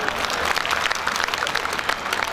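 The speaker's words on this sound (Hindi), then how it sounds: "एक बार जोरदार आप ताली बजाएं" Spectators at a large Hindi comic poetry gathering in Behror break into loud, dense applause, many hands clapping steadily and close.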